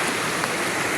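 A clear mountain creek near Canlaon City, Negros Oriental, flows past where carrots are washed, giving a close, loud, even rushing wash of water with no breaks over about a second.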